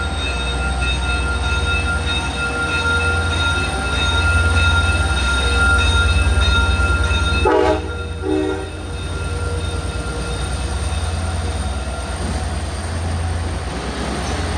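A Long Island Rail Road commuter train departs New Hyde Park, rumbling loudly and steadily with the clatter of rolling wheels. A short horn-like tone sounds midway.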